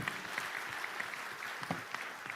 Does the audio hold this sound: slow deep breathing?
no